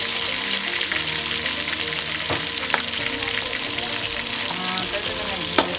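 Steady, loud sizzling of garlic frying in a hot pan, with occasional stirring scrapes and crackles throughout.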